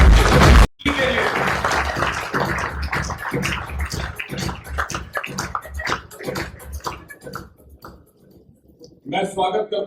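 Audience applause fills a hall at the launch of the Tobacco Free Mumbai Police Station campaign, breaking out after a sharp start and rolling steadily for several seconds before thinning out, then followed by a voice.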